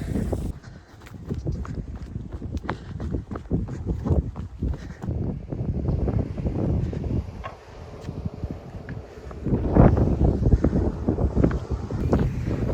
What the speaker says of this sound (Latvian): ārā ir diezgan stiprs vējš